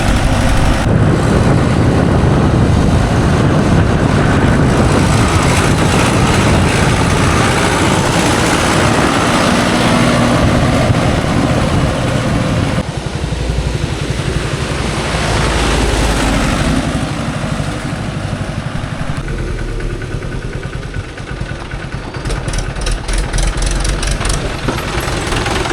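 A Mahindra 575 DI tractor engine runs loud and steady for the whole stretch, a continuous diesel rumble with an added note from the silencer packing, heard close up without talk.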